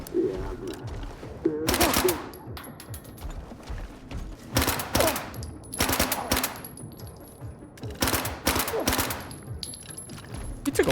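Automatic gunfire in the shooter game Stalker 2: Heart of Chornobyl, fired in repeated bursts of rapid shots between quieter gaps, with occasional voices under the ambience.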